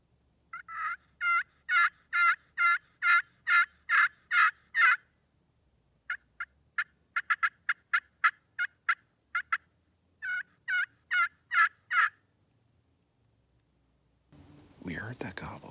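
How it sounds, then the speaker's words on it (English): Runs of sharp, evenly spaced wild turkey gobbles come in three bursts over quiet, then a brief rustling scrape ends it. "We did hear a turkey."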